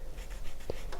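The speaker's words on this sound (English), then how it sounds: "I'm going to jot a little note, not in here." A pen scratches a short note onto paper, faint soft strokes close by against a low room hum, with one small tap midway.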